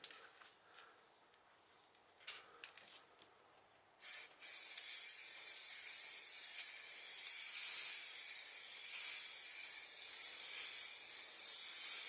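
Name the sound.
spray nozzle spraying on a roof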